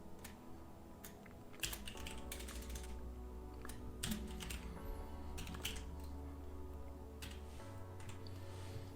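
Someone types code on a computer keyboard. Bursts of quick, close key clicks come with short pauses between them, quiet and alone, with no voices heard.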